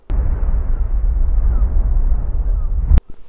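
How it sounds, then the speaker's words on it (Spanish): Ocean waves as they would sound on Mars, rendered as a dull, muffled low rumble with the highs stripped away, steady and fairly loud, cut off abruptly near the end by a brief click. "Y así es como sonarían esas olas en Marte."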